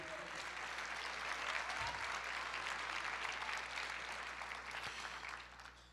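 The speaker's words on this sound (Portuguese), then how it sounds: "Você pode aplaudir o Senhor" Church congregation applauding steadily throughout, a dense sustained wash of clapping from a large crowd, fairly distant and even, with no voices rising above it.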